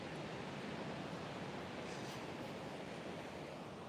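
Ocean waves washing in at Pacific Beach on a morning oceanfront, heard as a steady, dense broadband surf roar, even and continuous throughout without talking.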